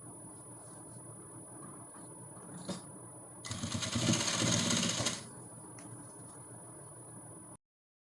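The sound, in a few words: sewing machine stitching corset fabric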